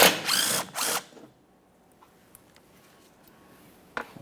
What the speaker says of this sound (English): We'll remove each of those mounting bolts and the shield.